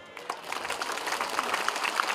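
Applause breaks out at a women's church gathering in West Papua, a short burst of dense hand clapping from a crowd, steady and fairly loud for a couple of seconds.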